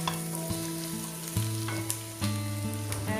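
Onion and green chilies sizzle in a pan for prawn biryani, a steady frying hiss broken by stirring scrapes, with sustained tonal background music running underneath.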